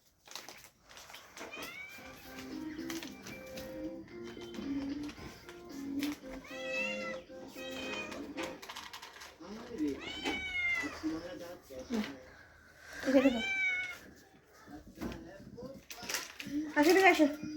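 A pet cat meows repeatedly in a home in Assam near the Meghalaya border, a string of short rising cries under a woman's speech and household clatter.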